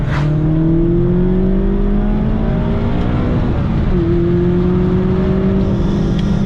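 A 2019 Mazda MX-5 ND2 RF with 184 hp and a BBR exhaust accelerates to overtake, heard from inside as a loud, continuous engine drone that climbs in pitch, dips briefly at a shift, then rises again.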